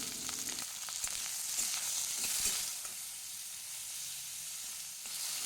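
Cauliflower pieces frying in oil with turmeric and salt, giving a continuous close hiss and crackle of sizzling with occasional stirring, no voices over it.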